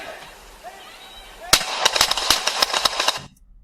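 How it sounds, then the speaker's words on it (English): Police gunfire, many rounds fired in a rapid, loud burst of sharp cracks lasting about two seconds, following a quieter stretch of background noise. "the cops show up and fire 50 rounds."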